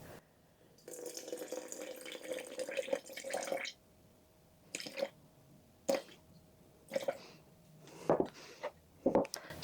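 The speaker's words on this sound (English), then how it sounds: "Tear it out to 0 and add 100 grams of water." Water runs and splashes into a container of sourdough starter for a few seconds, then soft wet drips, clinks and squishy stirring sounds follow intermittently, close and fairly quiet.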